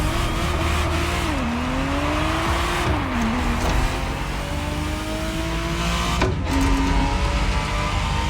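A Ferrari Testarossa races in The Crew Motorfest, its engine note climbing through repeated gear shifts with brief dips between them, a loud continuous drive heard from close by.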